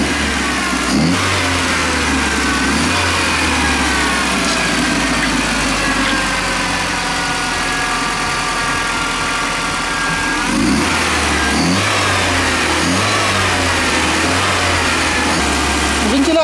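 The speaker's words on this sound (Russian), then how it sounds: "Чуть погазуйте, дядь Саш." The engine of a Volkswagen Passat B3 with an overheating, boiling cooling system idles close by and is revved in several short bursts, each swelling and then easing back to a rough idle.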